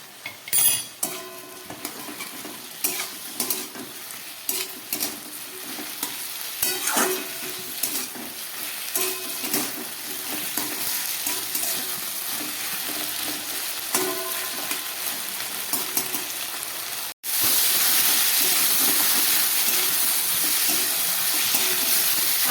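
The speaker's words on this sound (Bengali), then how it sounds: "আদা নুন দিয়ে খুব ভালো করে কষিয়ে নিলাম" Mixed vegetables for shukto fry in a pan with salt and ginger paste, a steady sizzle under repeated scrapes and clinks of a spatula against the pan, growing to a louder, denser sizzle near the end.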